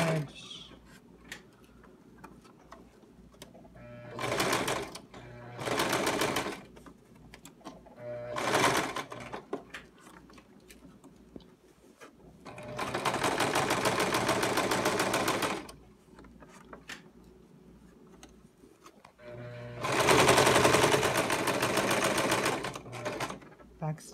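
A sewing machine stitches along the edge of a jingle dress in separate runs: a few short bursts, then two longer steady stretches of rapid mechanical chatter, close and clear, with quiet gaps between them.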